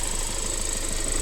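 A 2024 Kia Seltos HTX diesel engine idles with a steady, even low rumble, heard close and alone for a brief moment.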